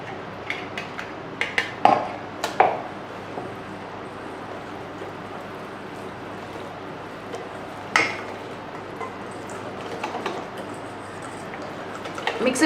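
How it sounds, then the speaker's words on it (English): A spoon scrapes and knocks against a bowl while wet ingredients are folded into dry ones for an eggless mango cheesecake batter, giving scattered clinks and soft wet stirring under a quiet room. "So now we mix our wet mixture into our dry mixture."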